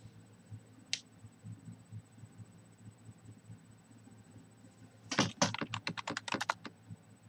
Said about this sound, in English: I hear the typing. It's so fast.